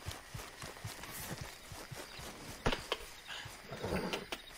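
Rhythmic hoof clip-clops of a horse in Red Dead Redemption 2 at a steady gallop, fairly close, with a low rumbling background and a few sharper thuds.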